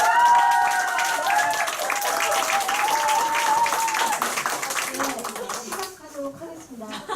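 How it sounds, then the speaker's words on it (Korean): Audience applause at a Korean group meeting, lively close clapping from a roomful of people with a tonal melody running underneath, thinning toward the end as a voice begins. "박수 주세요."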